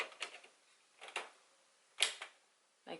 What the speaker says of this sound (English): You gotta make sure that they all clip in. You're supposed to hear the clicking sound.